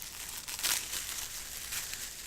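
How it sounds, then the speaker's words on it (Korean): A newspaper wrapped in a plastic bag crinkles and rustles close by in a short, soft burst of crackling with no talking. "신문을 비닐에 싸서 주는군요."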